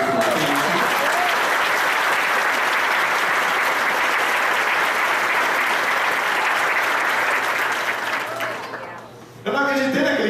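A church audience breaks into loud, sustained applause that fills the room for about nine seconds, dips briefly, then swells again as a voice speaks over it.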